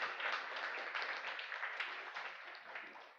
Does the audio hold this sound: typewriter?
no